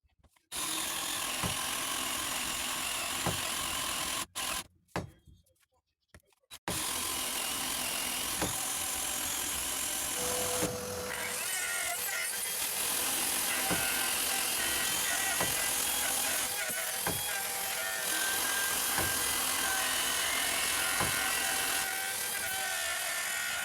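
A loud continuous whine of a router cutting a pickup cavity into the wooden body of a short-scale bass guitar, briefly cutting out near the start, then running steadily with shifting pitch as the bit digs.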